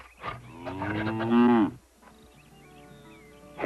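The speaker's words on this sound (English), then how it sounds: "Suddenly, there was a loud mooing sound. A cow was stuck in a mud hole." A cow stuck in a mud hole lets out a long, loud moo that rises and fades, followed by quieter background sounds and the start of another call.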